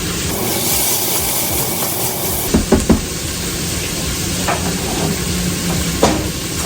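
Onions sauteing in a pan give a steady sizzling hiss, with a few short clatters midway and near the end as they are stirred. No voices.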